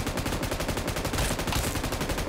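Rapid automatic gunfire from a mobile battle-royale shooter during a fight with an Ancient Guardian boss, a dense continuous stream of shots with no talking.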